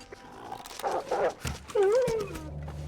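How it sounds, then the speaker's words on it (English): Wolves in the survival game The Long Dark: canine growls, whimpers and a drawn-out wavering howl-like whine, moderately loud and close, with brief game noises around them. "We can handle these dogs"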